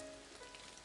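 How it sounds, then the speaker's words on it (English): Steady, soft rain beats on the ground in the visual novel game Clannad, an even wash of patter with no voices over it. "The sound of raindrops beating on the ground fills the silence."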